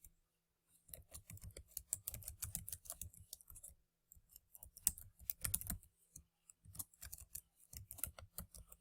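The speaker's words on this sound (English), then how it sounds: "and now I will type." Steady typing on a computer keyboard, with rapid clustered keystrokes in bursts separated by short pauses, close and quiet.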